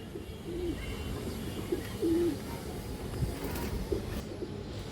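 Ring-eyed pigeons coo softly a few times from a loft, faint low throaty calls scattered over a steady background hum, with no one speaking.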